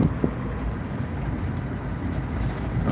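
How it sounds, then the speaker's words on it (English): Wind gusts across the microphone as a steady, low rumbling roar with slight surges, loud and close, with no voices. "Daisy's getting wind in her hair"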